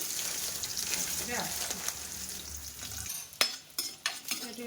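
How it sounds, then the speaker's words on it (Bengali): Nuts frying in ghee for fried rice, a steady sizzle in a pan followed by a few sharp clinks of a utensil stirring against the pan. "ফ্রাইড রাইসের জন্য বাদাম ভাজছি ঘিয়ের মধ্যে"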